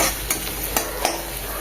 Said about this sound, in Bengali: রসুন, শুকনো লঙ্কা, কাঁচা লঙ্কা পেঁয়াজের সাথে ভাজা ভাজা করে নেব।